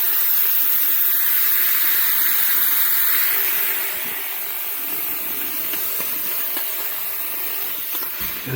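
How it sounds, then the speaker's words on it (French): A vertical garment steamer releases a steady, loud, broadband hiss of steam that holds constant, easing slightly in level partway through, with no talking. "Ça arrive rapidement au niveau de la vapeur."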